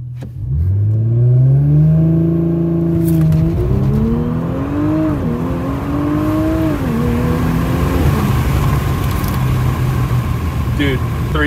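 Audi S5 B9 with an 034 Motorsport Stage 2 tune accelerating hard, its engine note rising through several gear changes with a loud, close, whining drone as people talk over it.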